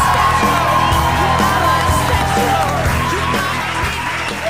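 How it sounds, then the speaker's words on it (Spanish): Loud crowd cheering, whooping and yelling with applause greeting David Broncano at a live comedy show in Dublin, a dense continuous roar with scattered shouts throughout. "Y un fuerte aplauso para David Broncano."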